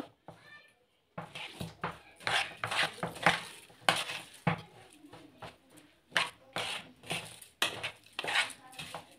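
Rice and other ingredients are mixed by hand-held utensil in a tray for Egyptian baked rice, with rhythmic clinking and scraping of metal against the pan. Someone talks between and over the strokes.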